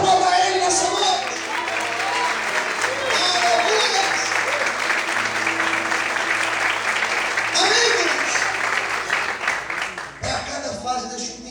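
A church congregation applauds at an evening service, with sustained clapping and crowd noise throughout and a preacher speaking over it.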